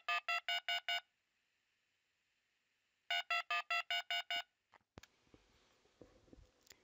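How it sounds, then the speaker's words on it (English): DTMF keypad tones played by an SBC gateway during a test call: two quick bursts of short, evenly spaced beeps, then faint clicks and low handling noise. "The SBC gateway plays the DTMF."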